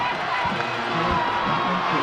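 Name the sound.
Georgetown football crowd cheering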